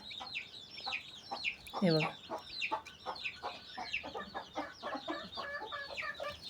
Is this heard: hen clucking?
yes